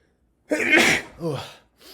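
A single sharp sneeze bursts out close by, followed by a softer breathy tail and a brief murmured voice.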